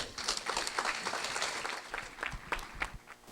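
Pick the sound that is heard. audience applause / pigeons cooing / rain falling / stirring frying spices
audience applause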